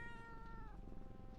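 A cat in The Darkest Files video game lets out a single clear, drawn-out meow, close and alone.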